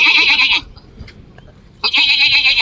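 A human voice imitating a baby goat: two high, quavering bleats, loud and close, one at the start and one at the end, separated by a short quiet gap.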